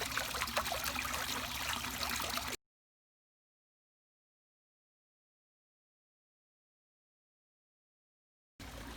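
A small garden pond water feature trickles steadily at close range, a continuous soft splashing flow that cuts off abruptly and returns briefly at the end.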